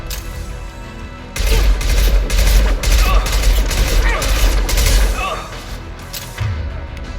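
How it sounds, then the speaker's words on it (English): Gunfire in the shooter game Mass Effect 2: a loud, dense burst of rapid shots and booms lasting several seconds, then a brief pause and a few more shots, with game voices heard between the bursts. "Firing now."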